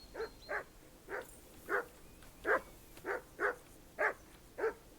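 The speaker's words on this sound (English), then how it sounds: "Henry, that barking's driving me nuts." Dog barking in the video game Kingdom Come: Deliverance II, around ten sharp, evenly spaced barks repeating steadily and fairly close, with no talk over them.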